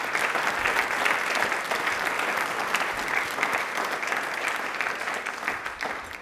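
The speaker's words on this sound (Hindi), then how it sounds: "तालियां प्लीज़ एक बार जोरदार बजा दीजिए" An audience at a televised question-and-answer program claps loudly and continuously, a broad, even wash of applause that holds steady throughout without any voice breaking through.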